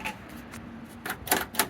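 Unlocking the door lock mechanism on a 1962 Comet car: a few crisp, close clicks and clacks near the end of an otherwise quiet stretch, with no talking.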